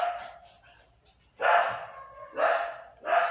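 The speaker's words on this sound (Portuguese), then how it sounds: "Meu cachorro." A dog barking indoors nearby, three loud separate barks at irregular spacing with a faint softer yip between them, no talk over them.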